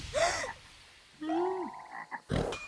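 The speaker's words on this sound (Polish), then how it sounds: "A co to znowu było? Żaby!" Several loud, close cartoon frog croaks in an animated children's show, each a short rasping call with gaps between, followed by a sharp thump.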